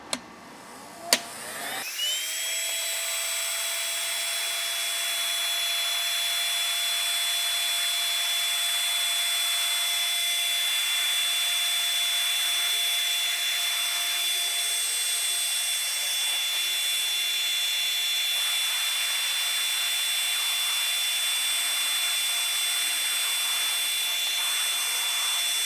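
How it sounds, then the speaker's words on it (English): A heat gun blows a steady, loud whoosh while shrinking heat shrink tubing over fiberglass loom on an ignition harness. It starts with a click and runs unbroken for over twenty seconds. "we can bring in the heat gun and shrink them"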